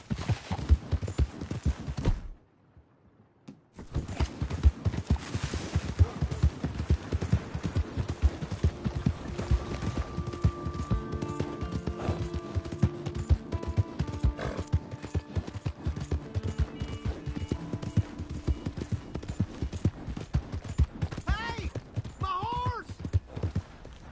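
Horse hooves clip-clop in Red Dead Redemption 2, a steady rhythmic trotting close by that drops out briefly and then resumes under game music, with voices talking over it.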